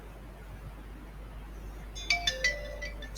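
A phone plays a WhatsApp order notification for a Magento 2 store order: a short run of bright, chiming tones that rises out of quiet room hiss about two seconds in.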